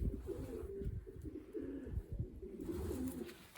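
Racing pigeons in a loft coo in low, throaty, repeated rolls, fairly close and soft, with steady rustling underneath and no speech.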